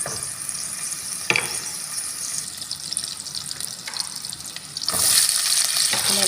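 Onion fries in oil in a pan, a moderate hissing sizzle with a few sharp clicks, which gets louder and brighter near the end, no voices.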